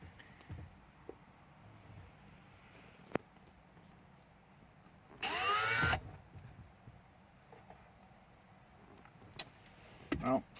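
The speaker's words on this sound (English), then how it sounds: "we're going to start out with a smaller drill bit." A power drill fitted with a small bit runs in one short, loud burst of about a second, with faint clicks and handling noises spread through an otherwise quiet space.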